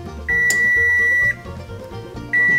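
An oven control panel gives two clear electronic beeps while the baking temperature is set, a long tone followed by a second starting near the end, over faint background noise.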